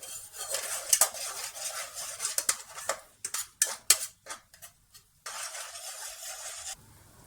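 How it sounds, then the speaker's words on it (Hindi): Three eggs fry in oil in a kadai, heard as a near sizzle broken by a run of clinking, scraping utensil strikes against the pan, then pauses and a short settled stretch of frying. "अंडों को हमने इस तरह से अच्छी तरह से फ्राई कर लेना है"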